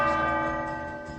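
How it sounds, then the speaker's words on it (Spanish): The Berenguela, the largest bell in Galicia, rings in the clock tower of Santiago de Compostela Cathedral, a loud, sustained metallic tone with rich ringing overtones that slowly decays. "Esta campana que estáis oyendo es la berenguela, la que es la campana más grande, la más famosa de toda Galicia"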